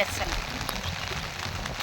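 Steady rain falls on an open umbrella while someone walks alone outdoors, a dense, even patter close overhead that continues without a break.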